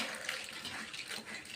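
Water pours steadily over dried prawns being washed in a kitchen, a continuous close splashing rush with no pauses.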